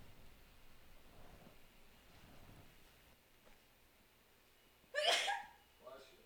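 A single sharp sneeze bursts out clearly over quiet background noise and faint talk, followed by a shorter, softer breathy sound.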